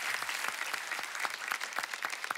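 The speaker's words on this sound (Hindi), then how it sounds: "जोरदार तालियों से स्वागत कीजिए तमन्ना और रितेश देशमुख का।" A studio audience on a comedy talk show claps steadily and warmly, a dense, continuous patter of many hands with no voices on top.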